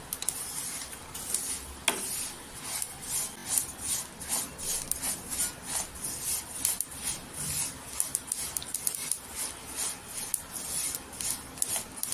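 A spoon or spatula scrapes and stirs sesame seeds dry-roasting in a pan on a stove, producing a steady rhythmic rasping with faint crackling, close and moderately quiet.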